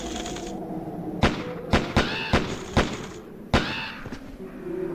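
Video game gunfire crackles as a series of about eight loud, sharp shots in an irregular rhythm, layered over game music and background effects.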